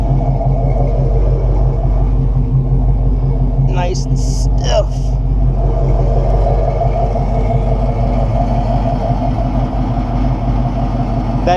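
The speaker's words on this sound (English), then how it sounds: "That noise is my door panels rattling." Door panels rattle inside a 1969 Buick Special Deluxe on the move, a loose buzzing chatter riding over a steady low engine and road rumble, with a few brief squeaks near the start.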